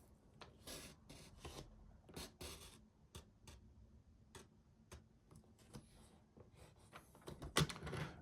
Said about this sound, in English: Take your cutting blade to the first score line, okay, and then cut down to 4 13/16